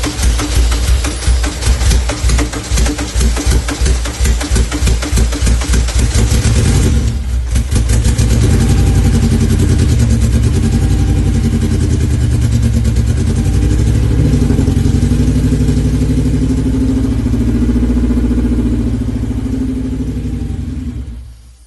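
A Honda K24-swapped dirt car engine fires up for the first time, revving loud and close with a rapid choppy beat, then settling into a steady rough idle that runs on without talk.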